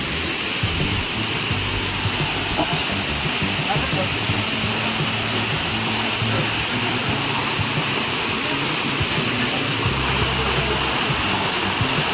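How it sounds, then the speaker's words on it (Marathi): Wagbil waterfall near Savarli village, Badlapur, sends water pouring in a steady, unbroken rush, heard from a short distance while people talk. "वाघबीळचा समोर ते पाणी वाहत आहे. हे वॉटरफॉल आहे."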